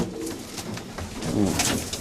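Racing pigeons coo in an outdoor aviary at a pigeon loft, with soft, repeated throaty calls that overlap through mild background noise.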